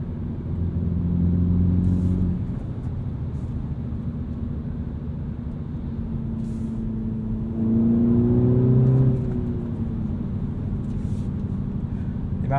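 A 2022 Mini Cooper S two-door hatchback with a six-speed manual gives a steady close engine drone with two short surges of revving as it accelerates, heard from inside the cabin with no talking.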